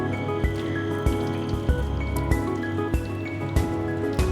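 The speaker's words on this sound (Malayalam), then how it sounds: "ഇനി നമുക്കിതിലേക്ക് തിളച്ച വെള്ളം ചേർത്ത് കൊടുക്കണം" Boiling water is poured into a pan while making an orange chiffon sponge cake in the oven, a steady watery trickle broken by regular drips and splashes.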